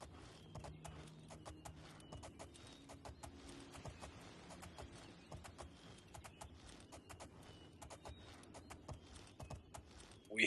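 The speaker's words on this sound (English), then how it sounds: "Horsey." Horse hooves clip-clop at a steady walking rhythm in the video game Oblivion, a moderately close, regular clatter of hoof strikes over a soft low game ambience.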